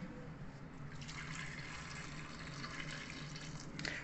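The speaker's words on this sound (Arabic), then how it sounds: "وغادي نكب عليه الماء طايب" Hot water is poured into a pot over soaked dried meat, a soft steady stream of liquid filling the pot, faint and continuous for a few seconds.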